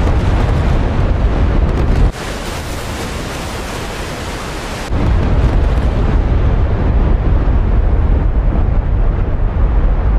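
Massive bombing from a B-52 Arc Light raid in a naval combat video game, a dense continuous roar of overlapping explosions that thins briefly, then returns at full strength.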